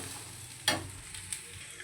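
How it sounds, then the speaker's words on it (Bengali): Spices and vegetables sizzle steadily in a kadai as they are sautéed for a festival meal. A constant frying hiss is broken by one sharp stirring scrape and a lighter clink, close to the mic. "আমি কড়াইতে একেবারে পুরোটাই কষিয়ে নিচ্ছি"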